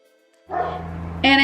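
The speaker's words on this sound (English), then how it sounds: "I have 3 dogs now, so it's one of the 3 that's barking." One of three pet dogs indoors lets out a close, loud, sustained yelping bark, rising sharply at the end.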